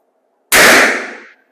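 A single sharp gunshot from a .32 caliber revolver cracks loudly at close range, then fades quickly into a short ringing tail.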